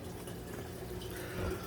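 Water runs steadily from the slotted spray bar pipe of an aquarium algae turf scrubber, a close, even splashing trickle that stays uniform, with a slightly louder burst near the end.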